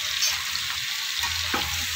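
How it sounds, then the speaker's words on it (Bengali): Potatoes with a little turmeric fry in oil in a kadai, producing a continuous crackling sizzle with a faint stirring knock near the end and no speech. "লাল করে একটু ভেজে নেবো।"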